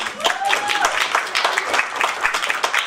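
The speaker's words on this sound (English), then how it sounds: "Can we give her the round of applause?" Audience applause at a public talk or Q&A event, a steady wash of clapping from a crowd that holds for the full stretch, with a voice faintly audible underneath.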